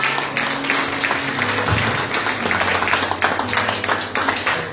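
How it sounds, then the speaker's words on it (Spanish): A church congregation claps together in sustained applause, dense and lively, with a low hum underneath throughout. "Un fuerte aplauso al Señor."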